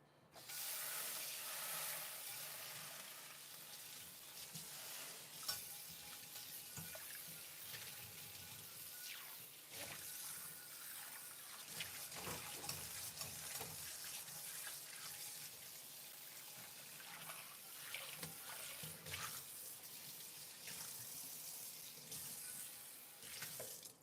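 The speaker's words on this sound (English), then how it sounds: "I'm gonna get this pan rinsed off" A pan rinsed under a running kitchen tap: a continuous rushing spray of water splashing on metal for over twenty seconds, close and steady with small shifts as the pan moves, no voices.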